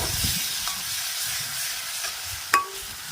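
Sautéed tomatoes and onions hiss and sizzle steadily as curd goes into the pan, with one sharp clink of a utensil near the end; no voices.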